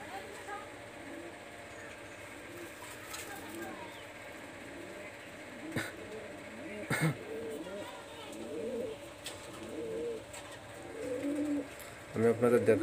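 Pakistani high-flyer pigeons coo repeatedly in soft, rounded phrases at close range, mixed with a steady background hum and a few sharp knocks, growing busier and louder toward the end.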